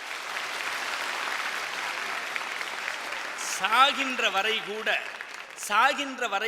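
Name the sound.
audience applause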